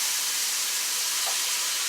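Steady broadband sizzle of a hot tawa heating for Guyanese oil roti, a continuous even hiss with no talk, close and moderately loud.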